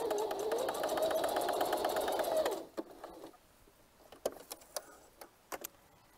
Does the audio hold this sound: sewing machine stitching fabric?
yes